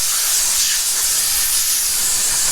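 A compressed air gun blasts a steady, loud, close hiss across a car roof to clear it before painting, unbroken from start to finish.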